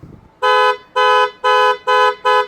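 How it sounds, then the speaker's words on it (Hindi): An aftermarket Hella horn on a Tata Nexon honks five times in quick succession, loud, close and evenly spaced, each a steady bright blare. "हॉर्न भी हेला ब्रांड में रहने वाला है आपका"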